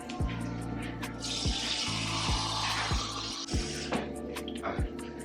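Kitchen tap water runs steadily into a measuring cup for cupcake batter, a soft continuous stream under a low repeating hum and a few clicks, with no talking.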